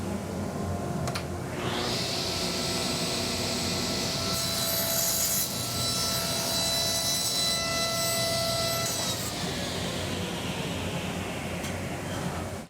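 Hand saw trimming excess wood off a guitar neck template, a steady close rasping stroke running continuously for the full length without pauses.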